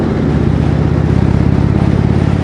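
An Indian Dark Horse motorcycle engine with fishtail exhaust idles and rumbles steadily with a deep, throaty exhaust growl, close and continuous without pauses.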